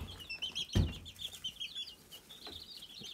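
A flock of about 22 to 24 chickens cluck and chatter steadily, with soft overlapping calls and one louder low thump early on.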